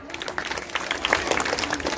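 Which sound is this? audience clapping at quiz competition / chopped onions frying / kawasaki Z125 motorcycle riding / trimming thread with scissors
audience clapping at quiz competition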